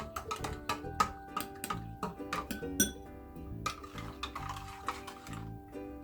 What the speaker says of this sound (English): To the 2 egg yolks, I'm going to add a pinch of salt. Mix them.